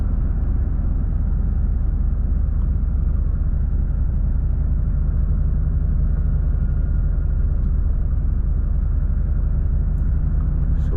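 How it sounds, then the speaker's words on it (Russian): A Volvo FH 540 truck rolls downhill on its engine brake near Kultuk, giving a steady, loud low-pitched drone and rumble that holds unchanged from start to finish with no voices. "катимся потихоньку на горном тормозе"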